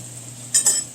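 A spoon swirls through sauce and scrapes clean against a bowl while a Korean BBQ bowl is prepared: two quick, close scraping strokes over a quiet background hum.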